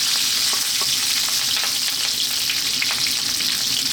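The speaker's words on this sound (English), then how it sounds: "At the same time, we're going to drop in the curry leaves. They can be very noisy sometimes." Curry leaves sizzle in hot oil, a steady loud crackling hiss with scattered sharp pops, close by and without talk.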